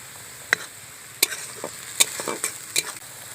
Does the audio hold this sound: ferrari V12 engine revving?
no